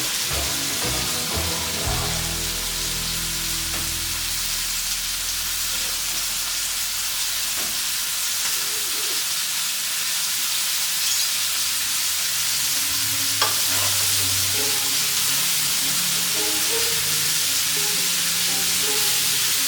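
Carrots and mixed vegetables stir-frying in a hot pan with tempeh, giving a loud continuous sizzle and hiss, along with stirring and scraping throughout.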